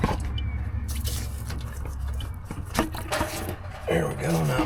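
Coolant drains from a pulled radiator hose on a Jeep TJ into a pan, a close, steady trickle and splatter of liquid with a few drips and clinks, and a voice joins near the end.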